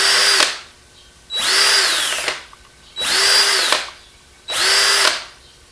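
A DeWalt DCD771 cordless drill/driver, a faulty unit, spins up in four separate bursts, each about a second long, with a whining motor tone and a click at each start and stop. The bursts are close and loud, with no talking.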